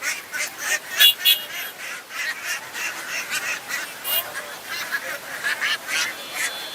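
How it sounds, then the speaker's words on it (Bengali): Many ducks at a Tongi village poultry market in Bangladesh, being sold and bagged, keep up a dense chorus of honks and quacks, loud and close, with overlapping calls throughout. "এদিকে হয়তো একসাথে অনেকগুলো হাঁস বিক্রি করছে, বস্তায় ভরতেছে"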